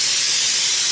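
A pressure cooker in a home kitchen lets out a loud, continuous hiss of escaping steam, steady and close for the whole short moment.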